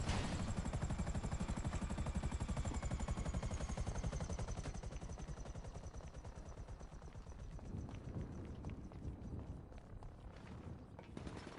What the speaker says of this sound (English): So what I'm going to do is land my helicopter over here.